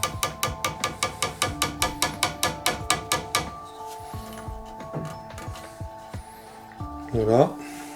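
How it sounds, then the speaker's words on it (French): A small hammer drives little pegs into a wooden raptor perch, first as a rapid, evenly spaced series of sharp ringing taps, then scattered lighter knocks, with a voice briefly speaking near the end. "avec un petit marteau pour les enfoncer."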